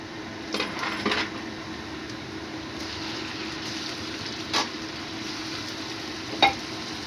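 Minced pork sizzles steadily in a hot pan, with a few sharp clinks of a utensil scraping and tapping the metal as it is stirred; no talking.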